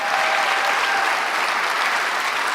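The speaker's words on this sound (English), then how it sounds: "Let's give them a round of applause, everyone." Rally crowd applauding, a thick, even wash of many hands clapping at once, loud and sustained throughout with no talk over it.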